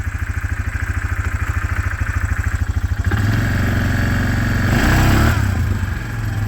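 Yamaha Grizzly ATV engine fitted with an upgraded clutch shim and spring, chugging in a rapid steady idle rhythm before revving up into a louder, smoother acceleration roar, close and alone.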